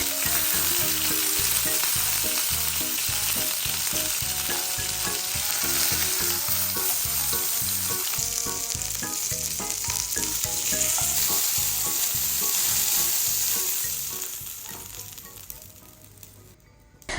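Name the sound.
chicken frying in oil in a pan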